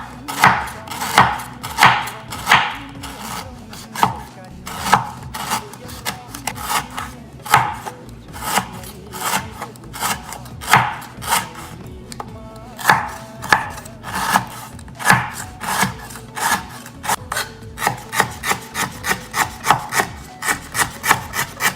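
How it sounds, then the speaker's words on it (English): Knife slicing fresh lemongrass on a wooden cutting board for a Khmer raw beef salad, steady repeated chopping strokes with a crisp woody rhythm, close and fairly loud, no talking. "we're gonna slice our lemongrass"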